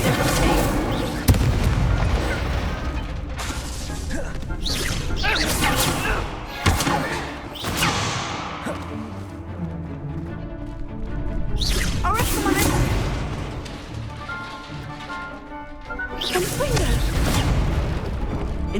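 Spell-casting effects from the Hogwarts Legacy game, including the Incendio fire spell, come as repeated loud bursts and booms with busy game sound and background music, and a voice calls out a spell name.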